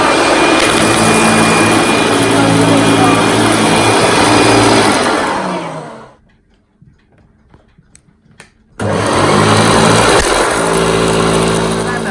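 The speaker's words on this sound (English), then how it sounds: "So we'll just switch this one on now and we'll suck the dirt up with some sound." A vintage Hoover Dial-a-Matic 1120 vacuum cleaner runs with a loud, steady roar and whine. It cuts out abruptly for a few seconds of near silence with faint clicks, then roars back on at full volume.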